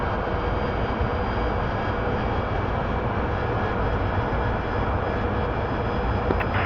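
A steady, loud aircraft engine drone runs throughout as the jet climbs in the DCS flight simulator, with an even, unbroken roar and faint tonal whines above it.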